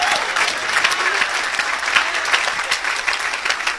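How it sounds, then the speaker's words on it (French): A church congregation applauds at a pastor's testimony service: dense, steady clapping with scattered cheers fills the space throughout, close and loud, with no break. "Oh, si tu n'acclames pas, tu es jaloux."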